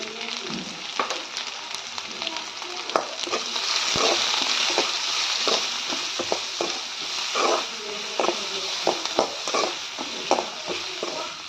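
Onions frying with turmeric in a pan for a Telugu okra fry, a continuous close sizzle broken by scattered clicks and scrapes of stirring.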